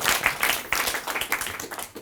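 Brief applause for a young man named Luca at a talk on youth and tobacco, a dense patter of many hands clapping nearby.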